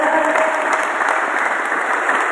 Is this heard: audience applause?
yes